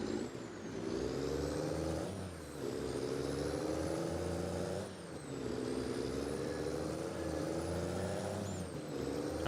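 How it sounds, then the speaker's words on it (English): Simulated heavy truck Jake brake in a Nebraska farming video game, a loud steady growling drone with harmonic bands that dips and rebuilds at roughly two-second intervals as revs fall and shift, continuous throughout with no talking. "I wish the truck would automatically downshift to keep the Jake brake revs high, because it sounds much better up there."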